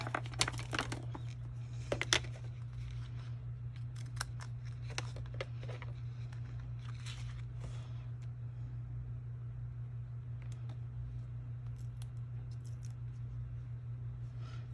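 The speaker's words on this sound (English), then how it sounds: "Take the scissors." Quiet snips and crinkles of scissors cutting paper come in short bursts over a steady low hum, with no talking.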